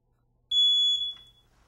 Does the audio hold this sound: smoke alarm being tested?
yes